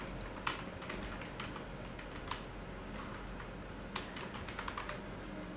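Rapid, irregular clicks of typing on a computer keyboard, with bursts of keystrokes separated by short pauses, close and clear over a faint steady background hum.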